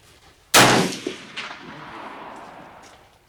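A single sharp Remington 700 rifle shot cracks out at a range, followed by a long rolling echo and a smaller second report, with no voices.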